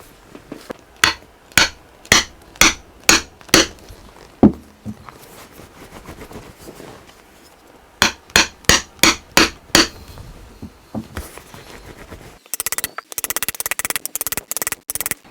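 Mallet striking a punch to make holes in stacked leather shoe heel layers, loud regular blows in two quick runs of about six, then a rapid fast tapping burst at the end.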